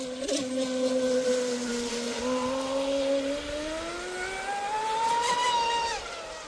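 Proboat Impulse 32 RC speedboat on a 6s electric setup runs fast across water, a whining motor tone rising in pitch as it accelerates, moderately distant and steady.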